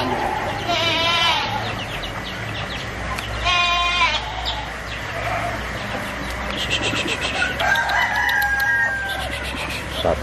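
Goat bleating at an aqiqah gathering, with several short, wavering bleats spread across the scene alongside chickens and a crowing rooster, over steady outdoor background noise and faint voices.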